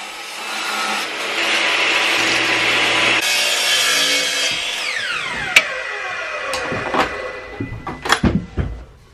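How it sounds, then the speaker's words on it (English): A track saw rips through wood for a box sides piece, a loud sustained cutting whine that spins down with a falling tone, followed by several sharp knocks and clatters as the pieces are handled. "I jointed 1 inch with my track saw, then ripped off a narrow piece to use for the sides of the box."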